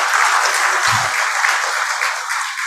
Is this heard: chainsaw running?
no